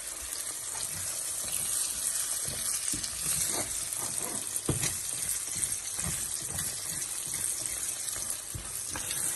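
Egg frying in a pan with saltfish for a spinach omelette, a steady broadband sizzle with scattered soft scraping and stirring clicks throughout, close and continuous with no talk.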